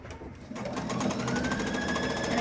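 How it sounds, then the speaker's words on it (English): A sewing machine runs steadily through straight-line stitching on quilt binding, a continuous close whirring hum that swells slightly and holds even, with no voices. "I'm just going to do a straight line stitching"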